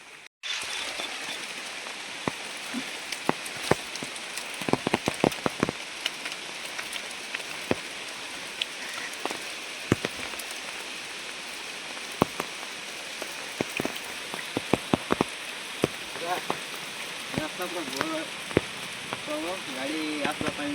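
Heavy rain pours steadily onto surfaces around a forest coffee farm, with dense broadband hiss and scattered sharp drip and splash impacts throughout.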